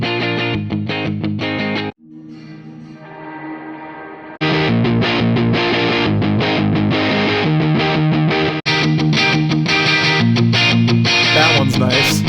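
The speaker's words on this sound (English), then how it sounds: "you could try a lot of different guitar tones on this as well." An electric guitar plays through several different distorted tones in turn, each phrase loud and saturated, separated by brief pauses, with one quieter, cleaner passage in between.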